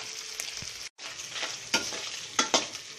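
Ham sizzles steadily in a frying pan while a utensil stirs it, with a brief cut near the start and several sharp scraping clacks of the spoon against the pan toward the end; no one speaks.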